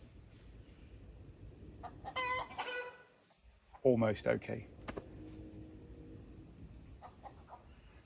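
Hen clucking in agitated bursts after being disturbed on a Portugal homestead, with a louder squawking flurry midway, heard close amid outdoor ambience while a person speaks briefly.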